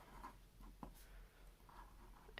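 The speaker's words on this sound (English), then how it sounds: "going to take that marker and I'm going to write my phrase for 2021" Marker writing on paper: a few soft, close squeaky strokes and brief scratches at an irregular pace, very quiet against a faint background hum.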